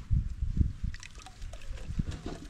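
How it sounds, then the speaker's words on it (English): Blended green leaf liquid is poured through a sieve, giving a soft, close trickle and slosh with low splashy thuds and light dribbling. "Take the sieve, come and pour it here."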